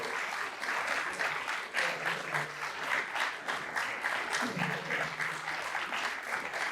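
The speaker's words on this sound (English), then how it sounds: "hand up with a round of applause as he goes" Sustained applause from an audience at a humanities award event on South Carolina democracy, steady dense clapping filling the hall for several seconds as an honoree walks to the stage.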